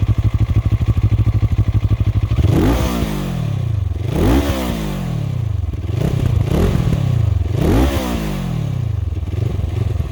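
A CFMoto 700 CL-X motorcycle engine running close up, starting at a steady idle then revved several times in rising and falling blips, loud and alone without talk.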